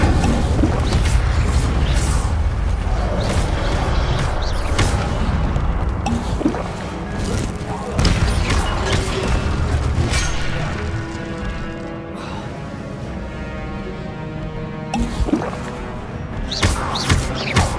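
An Incendio fire spell is cast in the Hogwarts Legacy video game on PS5, with loud booming bursts and crashing impacts amid dense, continuous game effects and music.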